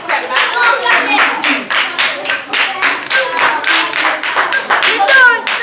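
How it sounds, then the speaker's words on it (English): A classroom of children clapping their hands together in quick, uneven bursts, steady and fairly loud throughout, with children's voices chattering underneath the clapping. "Clap them."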